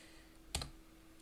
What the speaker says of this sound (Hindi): यहाँ पर कीबोर्ड से W प्रेस करेंगे और इंटर मार देंगे